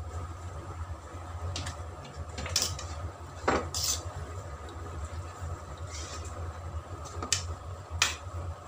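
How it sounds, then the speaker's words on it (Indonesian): Drained beef goes into a pan for a stir-fry with giok squash and is stirred, with sharp utensil clinks and scrapes against the pan at irregular intervals over a low steady hum. "Lalu kita masukkan daging sapi yang sudah kita tiriskan tadi."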